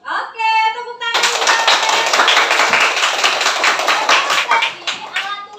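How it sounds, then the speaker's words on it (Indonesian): Schoolchildren in a classroom break into loud, rapid applause lasting several seconds, dense overlapping hand claps after a brief moment of speech at the start. "Oke, tepuk tangan."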